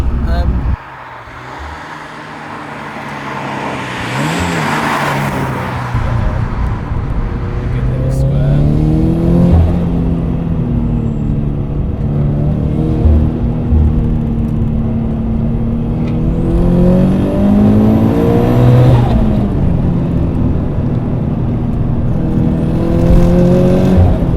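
A Toyota GT86 with an HKS turbo kit and 320 bhp revs and accelerates through rising and falling pitches, loud and close, with people talking over it.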